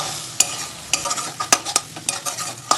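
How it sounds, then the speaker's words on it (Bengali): Egg and vegetable momo filling frying in a pan, a low sizzle broken by sharp, irregular scrapes and clicks of a spatula stirring, close and clear with no talking. "ভাজা ভাজা করে নেব"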